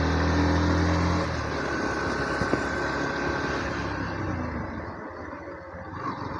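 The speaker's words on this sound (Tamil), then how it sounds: "இப்போ ரியரில் டெஸ்ட் பண்ணி பார்ப்போம்." A Yamaha FZS version 4 motorcycle with a single-piston rear caliper slows under rear braking, the close, steady engine hum dropping after the first second and continuing at a lower, even level with a faint click.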